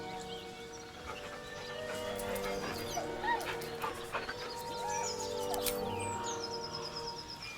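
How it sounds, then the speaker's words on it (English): A dog whimpers and whines nervously in the video game Baldur's Gate, with soft, wavering cries and short yips over a busy layered game soundscape with music and faint bird-like chirps. "The dog whimpers nervously"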